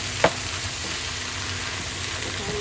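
Garlic and homemade shrimp paste (bagoong) sauté in a pan, making a soft, constant frying hiss, with one short clink near the start and faint low background hum.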